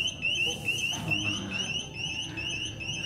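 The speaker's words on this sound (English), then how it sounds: "An alarm kicked in as I was handling one of the croc bags." A security alarm in a Louis Vuitton store sounds a repeating high electronic chirping tone, pulsing rapidly and steadily throughout over a faint indoor background.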